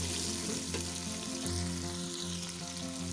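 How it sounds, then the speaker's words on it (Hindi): Onions fry in hot oil for a spiced chicken achar gosht curry, giving a steady, close, continuous sizzle and crackle with a low hum beneath, with no talking. "अब हम इसमें डालेंगे प्याज डालेंगे। हम इसको हल्का सा फ्राई करेंगे"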